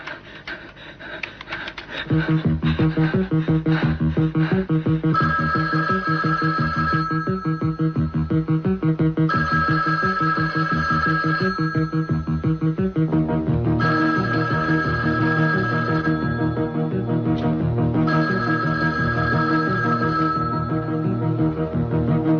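A telephone rings in repeated long bursts with short pauses, loud and steady over a low musical drone, with no voices.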